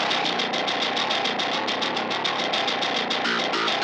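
Distorted bass guitar direct-input signal, run through a SansAmp-style drive and high-pass filtered at 300 Hz, playing a fast, steady chugging pattern of repeated notes, loud and dense with no voice.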